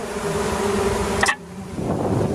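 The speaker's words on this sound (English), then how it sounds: "There's about 30 bees on the camera itself." Swarm of bees buzzing close around a camera on a warm, sunny Christmas Eve in Victor Harbour, South Australia: a steady, dense hum that cuts off abruptly partway, then returns more softly.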